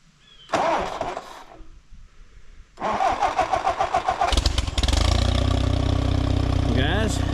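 A wheel-chocked engine in neutral, part of a sorghum project, cranks in two bursts, then catches around the five-second mark and settles into a loud, steady idle, with voices audible early on.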